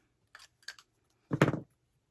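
Scissors cut slits in Peltex stabilizer while a small wallet is being sewn. There are two light, close snips, then a firmer, louder cut, all in a quiet room.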